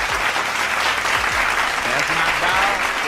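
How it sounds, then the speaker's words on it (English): Studio audience applause on a sports talk show, a loud continuous wash of clapping heard close up, with a voice speaking under it. "y'all clap it up for Henny, man."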